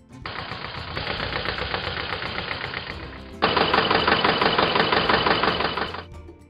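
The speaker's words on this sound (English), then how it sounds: "Model T snow vehicle." Engine of a Model T snow vehicle running steadily with a rapid, knocking mechanical rhythm, loud throughout and growing louder and harsher partway through, with no voices.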